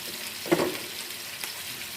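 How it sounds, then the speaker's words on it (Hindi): Chicken and potatoes fry in a pan with red chili powder, turmeric and salt, giving a steady close sizzle with one brief clatter of stirring early on. "और चिकन और आलू को भून लेते हैं"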